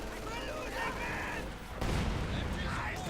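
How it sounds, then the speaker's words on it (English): Landmine blast under a squad of Grenadiers in Company of Heroes 2, a sudden loud boom about halfway through, over ongoing battle noise and gunfire. "mine went off then, the Grenadiers"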